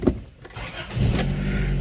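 A 1984 Toyota Tercel SR5 engine with a repaired exhaust cranks and catches, settling into a low, steady rumbling idle close by.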